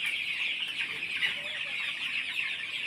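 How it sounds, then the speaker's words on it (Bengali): Sonali chickens on a poultry farm, with a busy flock clucking continuously in a dense chorus and no single bird standing out. "দেখেন মুরগিগুলো কেমন দৌড়াদৌড়ি করতেছে"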